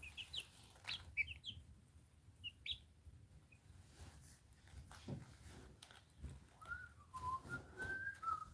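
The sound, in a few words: person whistling to chickens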